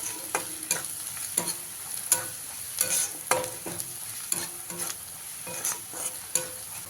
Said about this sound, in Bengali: আদা কুচিটা দিয়ে ভালো করে ভেজে নিয়েছি এবারে এর মধ্যে দিয়ে দেব পরিমাণ মতন হলুদের গুঁড়ো পরিমাণ মতন লঙ্কার গুঁড়ো দিয়ে আবারও ভালো করে মিশিয়ে দেব